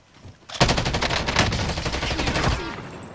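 Rapid bursts of Call of Duty Modern Warfare gunfire from a precision rifle, loud and dense, packed into about two seconds of repeated sharp blasts before fading out.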